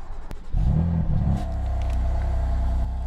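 A BMW M3 with an aftermarket exhaust starts up: a starter crank gives way to a loud catch and brief flare of revs, then settles into a steady, deep idle rumble close by, with no talking.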